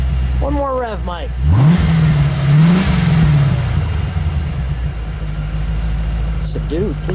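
The engine of a 1994 Chevrolet Corvette Brickyard 400 pace car is revved up close, swelling and dipping through a couple of throttle blips before settling to idle, with brief voices just before and after.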